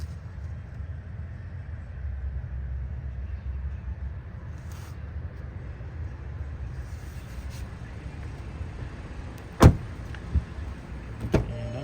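Power windows on a 2021 Volkswagen Jetta S in an interior with Titan black cloth run with a low, steady motor hum under cabin noise, ending in a sharp click and a couple of softer knocks.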